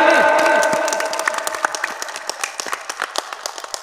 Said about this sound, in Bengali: একটা হাততালি দাও, একটা হাততালি।